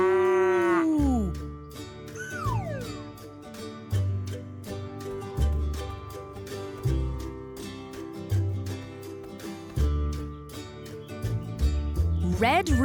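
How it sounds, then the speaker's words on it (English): A cow moos in a children's farm story, with drawn-out lowing calls that recur among narration and playful music. "Someone said moo. Was it you?"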